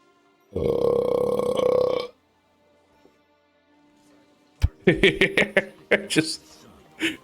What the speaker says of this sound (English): I fucking burped in his face and now I'm leaving